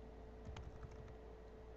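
Someone types a term into a website search field on a computer keyboard, producing a short run of faint, quick key clicks in a quiet room.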